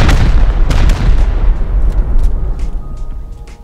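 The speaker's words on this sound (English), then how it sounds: "Let me do a rocket test right now, straight to core." Rocket explosions slam into a player-built base in a video game, a loud continuous barrage of deep booms with sharp bursts layered over one another, fading slightly toward the end.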